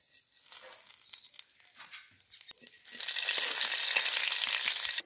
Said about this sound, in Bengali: মাছের তেল আমি অল্প একটু উঠিয়ে রেখেছিলাম, ওটা দিয়েই ফোড়ন দেব।